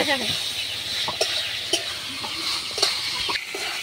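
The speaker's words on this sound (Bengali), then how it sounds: "আজকে রান্না করছি এই যে পটল পনির মশলা" Pointed gourd and paneer masala cooks in a pan with a steady close sizzle, broken by several sharp spoon scrapes and stirring knocks, with a faint voice in the background.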